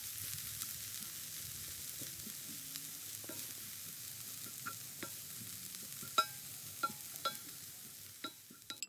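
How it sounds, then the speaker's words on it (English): Shredded cabbage and grated carrots cooking in a pan, a quiet steady sizzle with scattered soft scrapes and taps of a utensil that grow more frequent toward the end, close and faint. "add about a cup of grated carrots and stir to combine"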